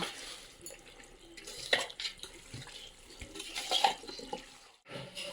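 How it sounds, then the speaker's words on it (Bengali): Mutton pieces are worked by hand with mustard oil in a bowl, giving close, wet squelching and slapping sounds in uneven bursts, quiet overall with brief louder squishes. "সরিষার তেল সবগুলো দিয়ে ভালো করে মেখে নেব।"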